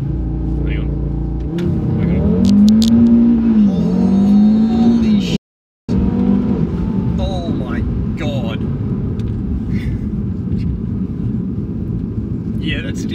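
A tuned Audi RS3 launches hard, its engine revving loudly and rising in pitch over several seconds, then cutting out briefly before roaring on steadily at close range; people talk over the engine noise.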